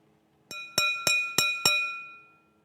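A glass container is struck five times in a steady rhythm, each hit giving a bright, clear ring that overlaps the next and fades slowly after the last one.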